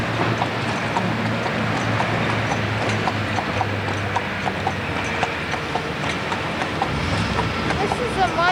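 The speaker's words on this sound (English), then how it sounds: "this is being pulled by a horse" A horse pulling a carriage through the streets of old Quebec City clip-clops at a steady pace, the hoofbeats faint and dense under a continuous rumble of wheels and road noise, with talk in the background.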